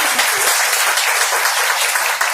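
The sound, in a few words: applause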